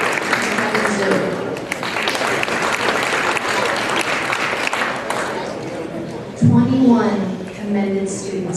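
An audience at a legislative meeting claps steadily for commended students, a dense round of applause that fades as a voice begins speaking near the end.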